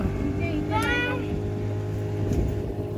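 A boat heading back across the water near Achara in Malvan, Konkan, its engine droning loud and steady throughout with constant low hum, while a voice speaks briefly over it.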